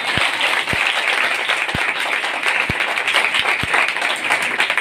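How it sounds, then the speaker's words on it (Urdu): A church congregation applauds for Jesus with a dense, loud, sustained wash of clapping, broken by a few deep thumps. "یسوع کے جلال کے لیے تالی ہو۔"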